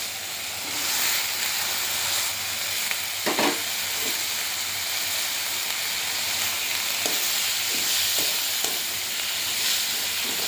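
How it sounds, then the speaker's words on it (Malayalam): Tomatoes sizzle and hiss steadily in a pan with onion, ginger, garlic, green chilli and curry leaves, with a few soft clinks of stirring through the frying noise. "ഇനി നമുക്കിതിലേക്ക് തക്കാളി ചേർത്ത് കൊടുക്കാം."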